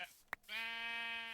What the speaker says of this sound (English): So, a couple of sheep here.